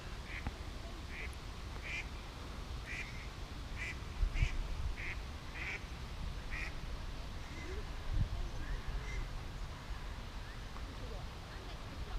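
Repeated duck quacks in short bursts as dogs chase ducks at a lake, over steady outdoor noise, with a couple of louder knocks partway through; fairly near and moderately loud.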